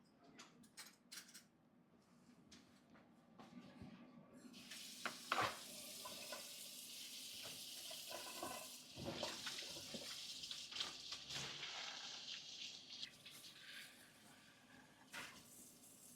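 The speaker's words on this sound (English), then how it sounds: "So I'm going to wash my hand." Kitchen tap water running as hands are washed, a soft, fairly faint hiss and splash with small clinks, swelling midway and continuing to the end.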